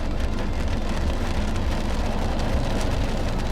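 Heavy rain pouring down in a dense, steady hiss, close and constant throughout.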